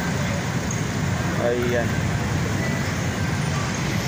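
Heavy street traffic in Quiapo, Manila, heard as a steady, dense roadway rumble of engines throughout, with someone talking over it.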